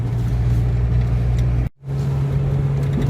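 A car drives out of town toward a country dacha. A steady engine hum and road rumble fill the cabin, with a brief dropout near the middle before the drone resumes.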